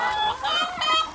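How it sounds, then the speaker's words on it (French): La Flèche hens, tall long-legged black chickens, cluck and call on a farm in a close, steady run of short overlapping notes with no talk. "les laflèches, c'est les grandes pattes, les grandes poules noires là-bas qui sont avec des grandes pattes"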